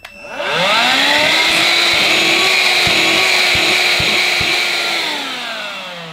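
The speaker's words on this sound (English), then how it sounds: "Surprisingly, there is still some suction on this AEG vacuum cleaner." AEG CX7 cordless stick vacuum cleaner with a nearly full bin spins up quickly and runs with a loud, steady high whine and rushing suction, with a few clicks and knocks as it pulls in debris before easing slightly near the end.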